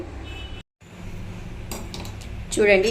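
A metal kadai pan is set down on a stove with a short clank and scrape near the end, over a low kitchen hum.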